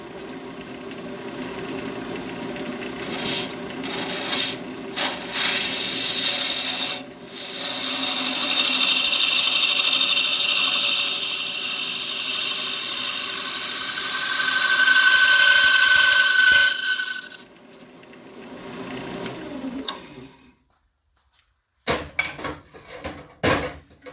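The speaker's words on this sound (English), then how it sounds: "I have another scraper that I've been saving for a special occasion" A scraper drags across wood in long continuous rasping passes, loud and close, then stops, followed by a brief silence and a few scattered knocks and clatters.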